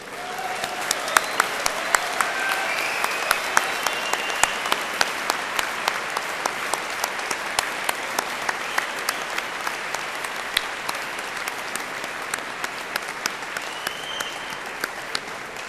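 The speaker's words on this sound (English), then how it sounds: "giving them a huge cheer and a huge round of applause" Graduation ceremony audience at Cardiff University applauding in a large hall: a loud, steady wash of clapping with sharp individual claps standing out, sustained evenly for the whole stretch without speech.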